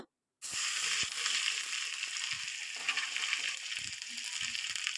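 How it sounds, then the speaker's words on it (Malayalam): Mustard seeds and chopped shallots frying in hot coconut oil, a loud, dense sizzling hiss that starts abruptly after a brief silence, with scattered faint pops and crackles, close up and steady. "ഇതിലേക്ക് ഒരു 1/4 ടീസ്പൂൺ കടുകിട്ട് പൊട്ടിക്കാം. അതിനുശേഷം ചെറിയ ഉള്ളി അരിഞ്ഞതിട്ട് കൊടുക്കുക."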